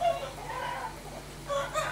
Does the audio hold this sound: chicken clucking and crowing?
yes